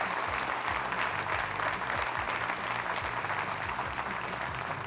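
Audience at a chess tournament, the London Chess Classic, applauding to welcome a champion: steady, dense clapping from a large crowd, sustained and even throughout at moderate loudness.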